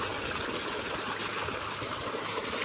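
Water from a farm motor pump pours steadily into a small tank, a continuous close rushing splash with no pauses and no voices.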